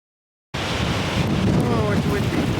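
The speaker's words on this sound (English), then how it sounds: "Oh, it's windy." After a brief silence, strong wind in the winter mountains near a deep, steep canyon below Mount Frosty rushes in abruptly as a loud, continuous roar buffeting the microphone.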